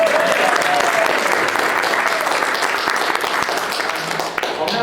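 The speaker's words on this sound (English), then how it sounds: "give yourselves a great applause, a great hand" Sustained audience applause at a national folk festival talk, steady dense clapping from a large crowd filling the whole stretch, close and loud.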